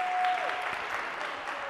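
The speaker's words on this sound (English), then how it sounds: "a round of applause for Claire for being so enthusiastic" A lecture audience claps for a volunteer in a short burst of dense applause that stays even for under two seconds, fairly close.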